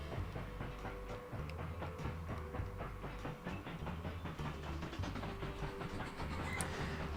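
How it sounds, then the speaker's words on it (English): Steady rumble of trains rolling along in a train-building video game, with faint clicking rail noise, continuous and moderately quiet, no voices. "Oh, it's so nice seeing all these trains going around."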